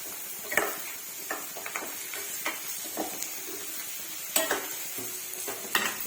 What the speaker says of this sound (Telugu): ఇప్పుడు బొడగాకరకాయ ముక్కలు అయితే వేసుకున్నాం. ఇలా కట్ చేసుకొని ఒకసారి వీటిని అయితే కలుపుకుందాం.